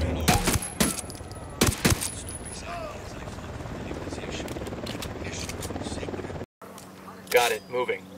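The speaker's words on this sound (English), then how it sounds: "We got a chopper coming in." A helicopter approaching in the video game Ghost Recon Wildlands: a loud continuous rotor roar that fills most of the scene, with sharp gunfire bursts at the start and game voices talking over it.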